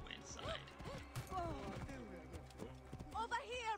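A horse's hooves clop in Assassin's Creed Origins, an uneven rhythmic trot mixed with creaking game sounds and heard beneath someone talking over most of it.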